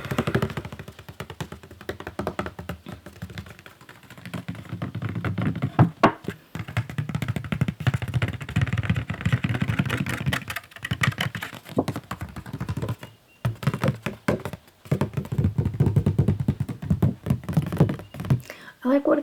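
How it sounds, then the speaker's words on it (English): Fingertips tap on thick watercolour paper in a whale art ASMR session. The taps are soft, quick and irregular and run continuously beside a constant low hum, with a voice speaking over them. "I like watercolour paper because it's thicker and it feels a little bit more like card. It's fun to tap on."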